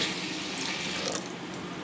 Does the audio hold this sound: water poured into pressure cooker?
yes